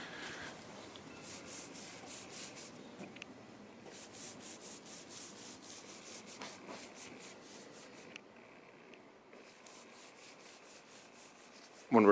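A clay bar rubs back and forth over Honda Civic car paint in a soft, rhythmic series of faint scrubbing strokes, close and quiet with brief pauses between passes.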